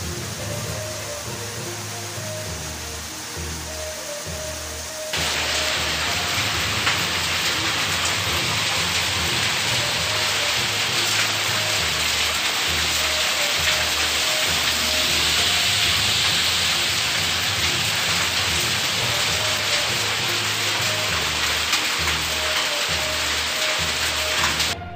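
Heavy rain pours steadily in southern Kashmir, a dense, loud, continuous hiss that swells sharply after a few seconds and holds without letup, with no voices.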